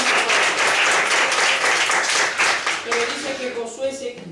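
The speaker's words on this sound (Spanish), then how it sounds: "Denle un aplauso a este Dios grande y poderoso" A church congregation claps loudly and briskly in a dense burst that thins and fades toward the end as a voice begins speaking over it.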